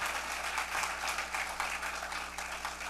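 A church congregation claps enthusiastically, with dense applause and a slightly pulsing rhythm, moderately quiet and continuous, and a faint low hum beneath it.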